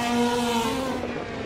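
A Ferrari Challenge race car accelerates on the Barcelona circuit, a strong tonal engine whine holding high and steady before easing, heard alone at moderate distance.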